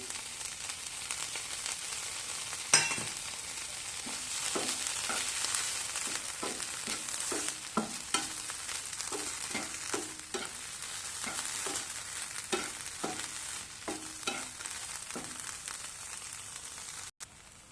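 Broccoli fries in butter in a pan, giving a continuous bubbling sizzle with regular soft knocks and stirring scrapes spaced every second or so, close and unaccompanied by talk.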